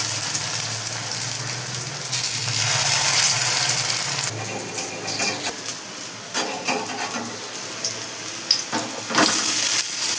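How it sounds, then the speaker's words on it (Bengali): Bitter gourd leaf fritters dropped one by one into hot oil, giving a steady broadband sizzle with light clinks and scrapes, close and fairly loud throughout. "একটা একটা করে বড়া আমি তেলের মধ্যে দিয়ে দিচ্ছি।"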